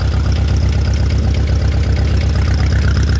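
An old Allis-Chalmers tractor engine idles close by in a steady, even low-pitched chug with a regular knocking pulse, loud and alone with no talking.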